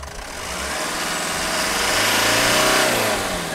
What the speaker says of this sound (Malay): kita boleh dengar bunyi turbo masa rem